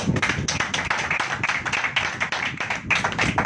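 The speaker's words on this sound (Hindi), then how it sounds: "ताली बजा के" A church congregation claps hands together in a dense, lively burst of many overlapping claps, loud and close, with no talking over it.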